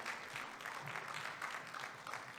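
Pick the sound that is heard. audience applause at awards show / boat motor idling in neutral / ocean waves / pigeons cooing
audience applause at awards show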